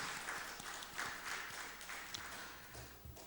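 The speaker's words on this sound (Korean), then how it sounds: "우리 박수로 한번 격려하고 칭찬합시다." Church congregation applauding during a Sunday worship service at a Methodist church, a quiet, diffuse patter of clapping spread evenly through the room without voices.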